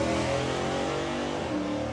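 A drag racing car accelerates hard down the strip at Dragstalgia, its engine roaring loud and close with a dense, continuous note that stays strong throughout.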